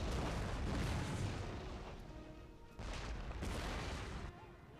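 Rocket artillery and explosions in a Napoleon: Total War battle between Austria and Britain, a rolling roar of fire and booms with sustained rumble, swelling in bursts and easing, under busy battle noise.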